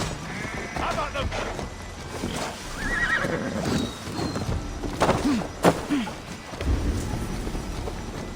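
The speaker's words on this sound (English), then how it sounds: "Stop that horse!" A horse in the video game Assassin's Creed Valhalla whinnies in a couple of sharp, rising neighs, with hoof clops, animal bleats and scattered voices mixed around it at moderate distance.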